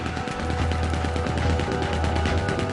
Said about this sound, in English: He's going for the Gatling. Look out, he's firing.